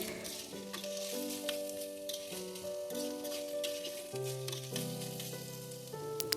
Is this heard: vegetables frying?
yes